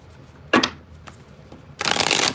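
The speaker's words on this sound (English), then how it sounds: "Taurus, you're taking up a lot of time with your shuffles" Tarot cards are shuffled close by: a quick riffle, a softer flick, then a longer loud riffling burst.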